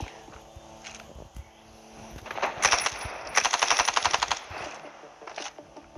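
Rapid bursts of automatic gunfire from a weapon in the Standoff 2 mobile shooter game crackle loudly in a dense run mid-clip, with quieter scattered shots and light game noise before and after.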